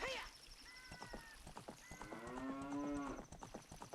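A cow moos in Zelda: Ocarina of Time with a drawn-out, wavering low call that rises into a sustained tone. Light game sounds play in the background.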